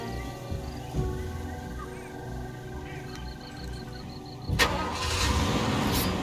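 A car engine in the video game Far Cry 2 cranks and catches to life, then settles into a running rumble, with faint birds and ambient jungle sounds beforehand.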